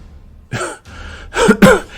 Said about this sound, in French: Il tousse, secoue la tête